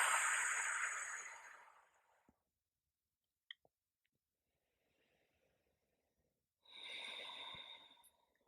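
Two long, breathy exhales out through an open mouth during a yoga flow, close and fairly loud, separated by several seconds of near silence with a couple of tiny clicks.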